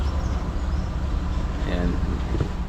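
A Nissan Roox engine idles steadily at about 900 RPM, a close, continuous low rumble without revving, with a person talking over it.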